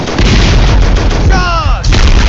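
Artillery fire in the Men of War strategy game, a loud, sustained booming roar with a descending whistling sweep in the middle, then the heavy blast continues, no talking over it.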